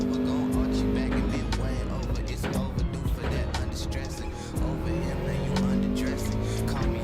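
A Subaru WRX in a racing video game, engine droning with gear changes and tires squealing through corners, while a person talks over the game sound.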